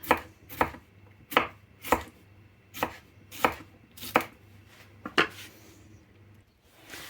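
A kitchen knife chops cucumbers and other vegetables for a winter cabbage salad, about nine firm, close knocks on a cutting board at a fairly regular pace, with a faint low hum underneath. No speech.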